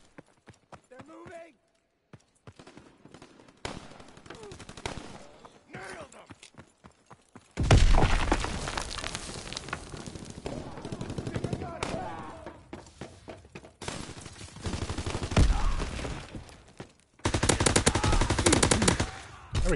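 Automatic gunfire in a Call of Duty WW2 match, bursts of rapid shots and thuds in several loud stretches with quieter gaps between them, mixed with a person talking over the game.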